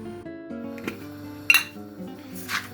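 Metal pot lid set down on a pot of simmering chicken pie filling, with a few sharp clinks and clatters among soft kitchen sounds, close and clear.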